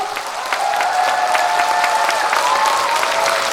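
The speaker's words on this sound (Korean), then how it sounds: "박수 소리만 양손 높이 들고 5초간 뜨거운 박수 주세요" A concert crowd at the 2021 Hamyang wild ginseng anti-aging expo gives loud, continuous applause with hands raised, a dense wash of clapping with faint cheering mixed in.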